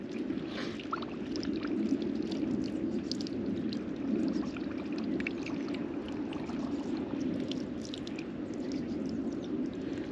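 Continuous bubbling and gurgling of water as a pellet pump floods 4mm expander fishing pellets, a close, steady churning sound with small splashy clicks and no talk.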